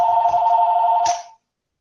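An unplugged telephone rings with a loud, close electronic tone held for just over a second before it cuts off into silence.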